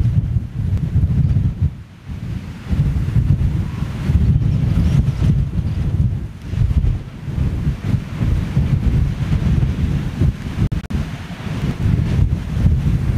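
Strong headwind on an exposed hilltop buffets the microphone with a continuous, loud low roar and gusty surges, no voices heard.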